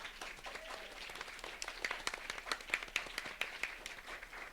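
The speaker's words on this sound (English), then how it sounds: "just a round of applause for everybody this evening" Audience applause closing a panel at LightBox Expo, scattered clapping that builds into sharper, louder claps near the middle, moderately close, with a little crowd murmur under it.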